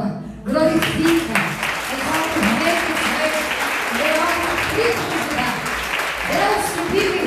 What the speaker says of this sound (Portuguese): As palmas loucas.